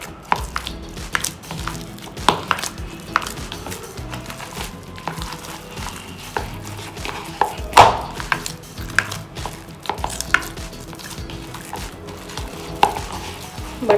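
Hand-kneading butter into soft eggless pav bread dough, with soft squishing, slapping and pressing sounds repeating irregularly and close by, plus occasional small knocks against the bowl or surface.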